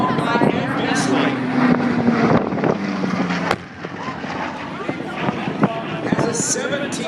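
Curtiss Helldiver warplane with a 1,700 horsepower Wright Cyclone radial piston engine at an air show, its steady droning roar shifting in pitch as it passes, with wind buffeting the microphone and a crowd murmuring.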